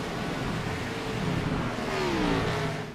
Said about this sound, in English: He's the only motor I can hear running going into turn 1.